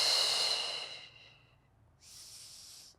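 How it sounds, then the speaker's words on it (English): A forceful breath is pushed out through the mouth during a core workout, followed by a pause and a second softer, breathy exhale, close and audible with no speech. "Again, exhale."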